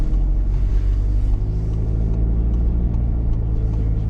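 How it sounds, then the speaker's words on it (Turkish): A car drives along a snowy winter road in Switzerland and slides on the surface, its engine a steady close rumble with tyre and road noise throughout, no talk. "hemen kayı veriyor araba"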